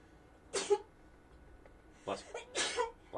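A sneeze breaks out amid a quiet indoor gathering, followed by two more sharp bursts close together, each brief and moderately loud against a faint background.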